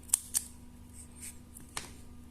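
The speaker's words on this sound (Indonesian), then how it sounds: "Kemudian kita gunting." Scissors cutting a paper template for a Tamiya gearbox, three or four quick, crisp snips spaced irregularly, faint and close in a quiet room with a low steady hum.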